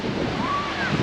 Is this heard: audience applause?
no